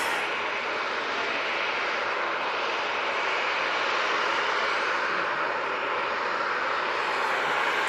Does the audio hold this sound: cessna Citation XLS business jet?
yes